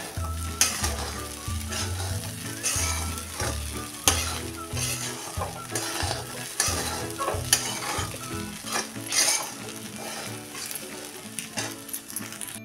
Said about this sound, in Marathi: अजून एकदा परतून घेऊया